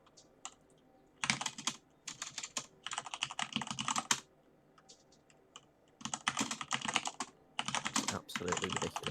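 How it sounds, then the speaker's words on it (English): Noisy non-mechanical computer keyboard clattering in quick bursts of typing, separated by short pauses, close and clear. "Oh, you get to hear my popcorn keyboard."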